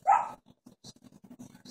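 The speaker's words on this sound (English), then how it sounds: "the dog's stuck under the couch, and it's whining" A dog stuck under a couch gives one short, sharp bark-like yelp, followed by faint, soft whimpering noises, all heard alone without talking.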